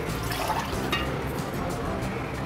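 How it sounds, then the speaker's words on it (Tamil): Water poured from a tumbler onto uncooked rice in a pot while making chicken biryani, a steady close splashing pour lasting the whole stretch, fairly loud with faint background noise. "10 டம்ளர் தண்ணி சேர்த்துக்கலாம்."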